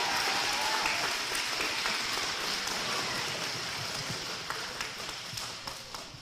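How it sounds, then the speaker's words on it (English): Elementary schoolchildren at an Arbor Day celebration clap in a steady, rain-like patter of applause that gradually thins toward the end, with faint cheers beneath. "So everybody, let's cheer for Norris"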